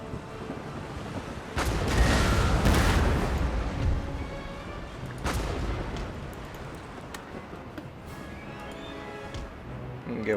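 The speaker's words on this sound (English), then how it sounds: "This grape shot's gonna hurt." Naval cannons in Empire: Total War fire grape shot in a heavy rolling volley, followed by another booming salvo, over wind and sea ambience with a faint voice in the background.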